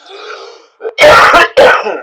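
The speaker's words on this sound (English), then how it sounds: "I may be coughing and sneezing a little bit" A few harsh throat-clearing coughs up close from someone with a cold, two loud bursts following a brief murmur, with no other sound around them.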